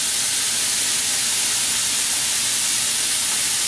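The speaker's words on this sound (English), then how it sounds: "you're literally going to hear that sizzle all the time." Thin-cut chopped sirloin for a Philly cheesesteak sizzles in a hot pan, a loud, steady, close hiss with no talking.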